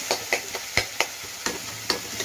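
Tomato and onion frying in a pan for an Andhra-style egg fry, with a soft sizzle under a series of distinct spatula scrapes and taps recurring at an uneven rhythm, close and fairly quiet.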